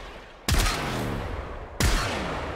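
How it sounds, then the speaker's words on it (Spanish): Two sharp gunshots from the video game Warframe crack out about a second apart, each ending in a ringing, decaying tail, loud against a quiet background. "Un disparo. Disparo a muerte."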